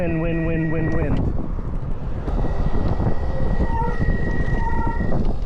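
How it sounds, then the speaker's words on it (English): A high, sustained brake squeal sounds briefly at the start, then fades into rumbling road noise and windy buffeting with a voice talking. "Pardon the squeaky brakes, guys."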